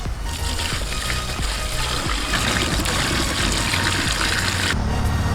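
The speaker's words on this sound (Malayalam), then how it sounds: "നമുക്ക് ഇതിനകത്തോട്ട് വെള്ളം ഒഴിച്ച് കൊടുക്കാം。" Water poured into a homemade magic-tap water-cup fountain set with stones, a steady broadband splashing trickle running continuously and fairly loud, then briefly thinning near the end.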